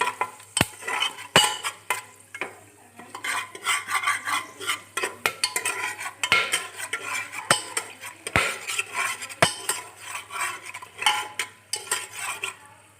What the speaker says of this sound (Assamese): এতিয়া ডালচেনি ইলাচি লং গোটেইখিনি তেলত ফ্ৰাই কৰি লওঁ